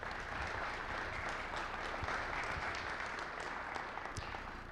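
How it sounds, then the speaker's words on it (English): Steady, dense applause from a webinar audience rewarding three presenters, continuous and even throughout with no voices. "if we could do one more round of applause for all 3 of the presenters"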